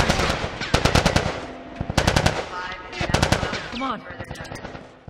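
Rapid automatic gunfire in The Last of Us rattles in loud sustained bursts, layered with shouting voices and a brief spoken line amid the chaos of a firefight.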